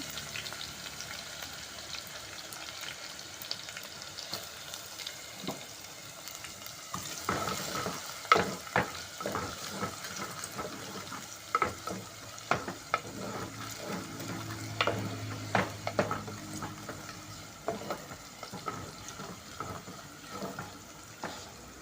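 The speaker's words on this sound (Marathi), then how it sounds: "त्याच्यामध्ये हे लसूण आणि कढीपत्ता घालते त्याच्यामध्ये आम्ही पातीचा कांदा घालते" Garlic, curry leaves and chopped spring onion fry in a hot tempering for a winter mixed-vegetable dish, crackling and sizzling steadily while a utensil stirs and scrapes the pan, with a few louder pops and clatters partway through.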